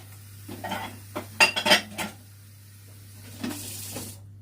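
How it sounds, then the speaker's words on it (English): Cups and cutlery clink and clatter in a few quick bursts beside a noisy electric kettle during tea-making, over a steady low hum, with a rising hiss near the end and no talking. "the kettle is a little bit noisy"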